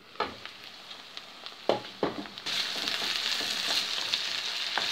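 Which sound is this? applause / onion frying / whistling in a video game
onion frying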